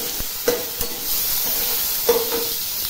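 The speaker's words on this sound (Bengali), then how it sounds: "জিরে দিলাম, তখন পেঁয়াজ আর রসুনটা দিয়ে দিলাম, তখন নেড়ে দিচ্ছি" Onion and garlic fry with cumin seeds in a silver-colored kadai while being stirred: a steady close sizzle broken by a few sharp scraping stirs, with no talking.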